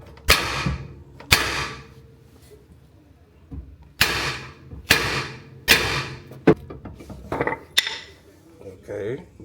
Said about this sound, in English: I'm gonna torch this thing and get to working on with this hammer right here.